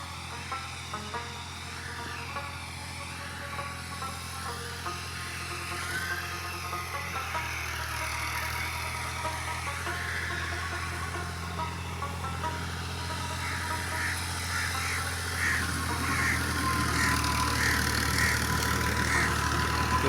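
A tractor engine idles nearby in a village farm field, a low constant rumble that grows slightly louder and rougher toward the end, with no talking.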